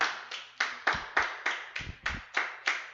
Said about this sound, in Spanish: Mi querida Martí, si vas a aplaudir, dale.